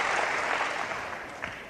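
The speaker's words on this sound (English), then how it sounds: "And the crowd here really loving it now." Wrestling crowd at an afternoon World of Sport Wrestling match cheering and applauding, a dense steady wash of clapping and cheers that slowly fades over a moment.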